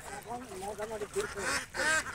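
A flock of about 450 domestic egg-laying ducks, raised free-range in the Chalan Beel area of Natore, quacks faintly in repeated nasal calls while people talk nearby.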